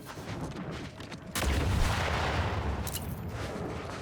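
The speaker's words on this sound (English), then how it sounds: "I was not expecting just a random explosion to occur" A random explosion in the video game Outer Worlds 2 lands as a sudden deep boom that swells into a long rumbling roar, with crackling debris trailing behind it, heard alone with no talk.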